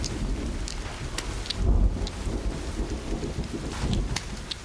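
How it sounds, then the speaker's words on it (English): A video game thunderstorm with steady rain pattering on surfaces, deep rumbling thunder swelling near the middle and end, and sharp crackles scattered throughout, continuous and close with no talking. "a thunderstorm starts"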